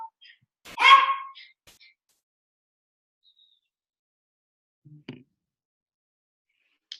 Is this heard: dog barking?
yes